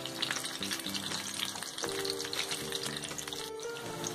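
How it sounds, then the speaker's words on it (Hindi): Aloo chicken patties frying in oil, a continuous close crackling sizzle with light utensil touches and a faint background hum. "अब हम दूसरी तरफ से भी इसे अच्छी तरीके से फ्राई कर लेंगे।"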